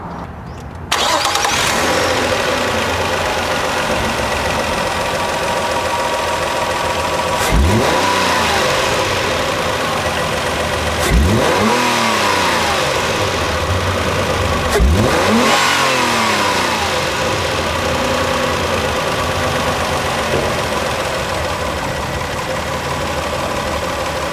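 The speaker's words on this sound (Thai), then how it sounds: "มาฟังเสียงเครื่องยนต์กัน" A Nissan Teana J32 V6 engine starts, then idles and revs hard three times in succession, each rev swelling and falling back, loud and close, without talking.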